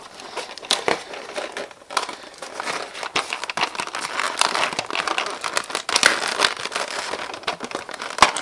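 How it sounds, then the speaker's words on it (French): Dense crinkling and crackling close by, like tape being peeled and crumpled, continuous for several seconds with no talking. "maintenant on passe pour enlever tous ce petit scotch, toutes ces cochonneries"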